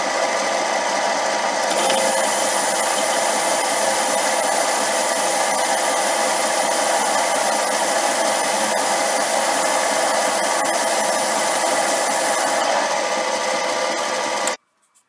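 A metal lathe takes a cut about four thousandths deep to reduce a part's diameter while making a steady rest, giving a steady, loud machining whir that holds for about fourteen seconds and then stops abruptly.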